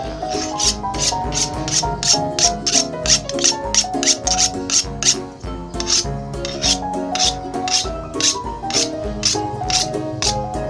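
A dull kitchen knife is drawn repeatedly across a sharpener in quick, even rasping strokes, steady and close, over continuous background music.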